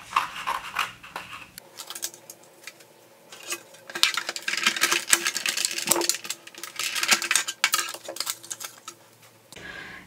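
An electronic cutting machine slices a small paper flag with its knife for birthday garland decor, a quiet motorized whir broken by bursts of clicking and scratchy tapping as the blade moves, with short pauses between passes.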